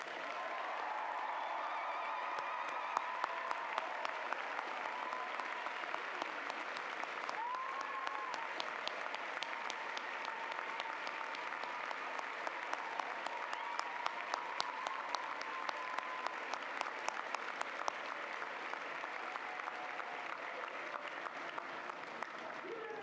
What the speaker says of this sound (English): Please join me in a thunderous round of applause for our new Tulaneans.